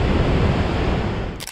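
Storm surf pounding the UK and Irish coast at high tide under brutal winds, a dense, steady roar of crashing water close by, continuous with no voices.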